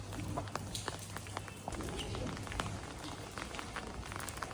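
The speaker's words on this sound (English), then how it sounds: "as you can see, raining." Rain outside a pottery studio, a dense steady patter of drops on surfaces with scattered sharper taps and a low background hum.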